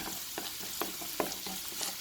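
Ginger, garlic and daal ingredients fry quietly in a pan, a soft continuous sizzle broken by a few light stirring taps and scrapes at irregular intervals.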